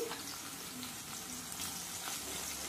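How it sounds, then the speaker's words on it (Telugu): Chopped onions, green chilies and curry leaves fry in hot oil for a masala chickpea curry, giving a steady, fairly quiet crackling sizzle that runs without a break and with no talking. "కట్ చేసి పెట్టుకున్న ఉల్లిపాయలు, పచ్చిమిరపకాయలు వేసుకోవాలి. అలానే కొంచెం కరివేపాకు వేసుకోండి."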